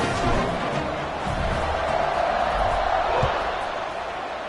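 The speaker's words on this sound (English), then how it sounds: "this crowd is buzzing after that last score" A college football stadium crowd, Louisville against Tennessee, buzzes with a steady broad roar after a touchdown and extra point, while a commentator talks over the noise.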